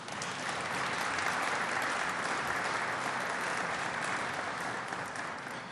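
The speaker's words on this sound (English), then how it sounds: "I would appreciate a little applause for her." An audience at the grand opening of del Lago Resort & Casino in Seneca County breaks into applause, a dense, even roar of clapping that holds steady for several seconds and fades slightly at the end.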